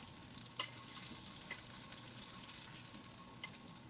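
Chicken pieces brown in a hot pan with a soft, even sizzle and scattered sharper pops, fairly quiet and with no one speaking.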